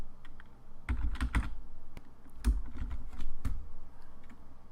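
Python code being typed on a computer keyboard, with irregular bursts of key clicks and a few louder strokes spread across the clip, close and clear with no talk.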